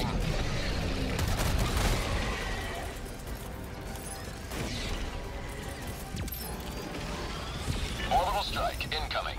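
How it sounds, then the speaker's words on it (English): Heavy, rumbling orbital strike explosions in Helldivers 2 roll in one after another, dense booms and crashes layered over continuous battle noise. "Orbital strike incoming."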